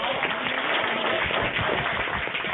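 An online audience applauds through unmuted microphones, a steady, dense wash of clapping at moderate level that runs without a break, heard through a narrow, band-limited connection.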